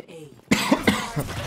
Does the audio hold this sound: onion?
no